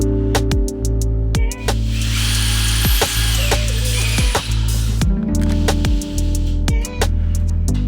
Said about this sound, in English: they're attaching the bracket system to the trusses and using lag bolts to get up into the trusses